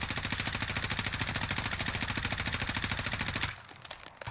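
Sustained automatic gunfire in the video game Warzone, a fast steady stream of shots for about three and a half seconds before cutting off, followed by quieter scattered clatter.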